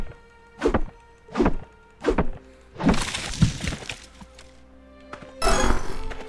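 Repeated hits on a tree in the video game Potion Permit: a series of sharp thudding chops in a steady rhythm, followed by a crunchier cracking burst and a brighter final impact, over a quiet game background with no talk.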